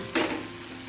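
Tomatoes fry down in a pan until nearly melted, with a soft sizzle and one brief sharper stir or clatter near the start, then a faint steady hiss.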